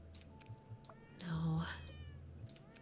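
A cat meows in the Cats Organized Neatly puzzle game, one clear drawn-out call in the middle, with soft clicks and short sounds scattered around it.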